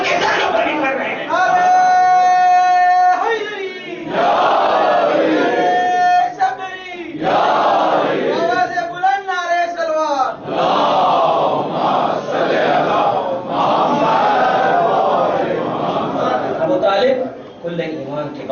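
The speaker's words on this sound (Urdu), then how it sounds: "نعرے حیدری فتح اور جیت کی نشانی ہے" A large gathering at a Shia religious address roars out chanted slogans in loud, surging waves, voices rising together, with a speaker's amplified voice heard between the bursts.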